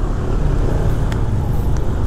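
Traffic on a narrow, congested road in Bali between Umalas and Canggu, with cars and motorbikes squeezing past one another, makes a steady, loud rumble that continues throughout with no talk.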